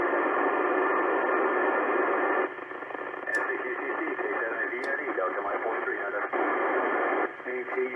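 AO-91 amateur radio satellite downlink received during a pass near Phoenix, heard as a steady loud band-limited hiss of FM radio noise, with faint voice-like modulation and brief tones riding over it throughout.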